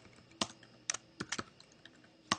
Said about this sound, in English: I'll just type in one row